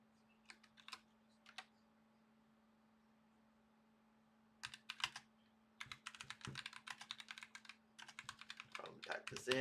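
Typing on a computer keyboard in a quiet room: a few isolated keystrokes, a pause, then rapid bursts of clicking clatter close by, ending in a denser run of keys over a steady low hum.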